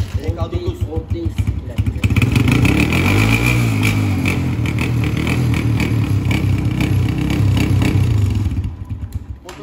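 A Kuba CG motorcycle engine runs steadily at idle, a loud low rumbling exhaust with a slight rise in the middle, close by with no voices.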